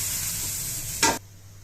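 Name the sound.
dosa batter sizzling as it is poured on a hot griddle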